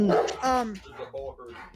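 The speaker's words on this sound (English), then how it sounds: "My dog alerted us to the presence of deer across the road." A dog barks several times in quick, uneven bursts nearby, fairly loud, with a whiny, yipping edge between barks indoors.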